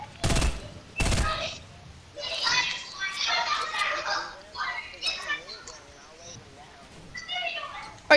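Two sharp, loud gunshots open the passage in a video game while a tree is being shot down. Excited children's voices and chatter follow over a busy, fluctuating background.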